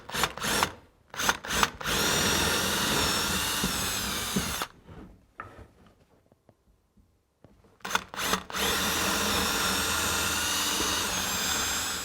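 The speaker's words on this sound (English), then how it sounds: "I've got a drill bit in my drill" A power drill whines loudly, boring holes through timber for a doormat in two long bursts separated by a quiet pause, with short stop-start revs before each run.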